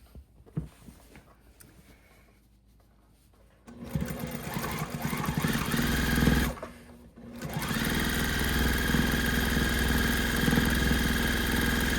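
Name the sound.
sewing machine stitching binding onto a quilt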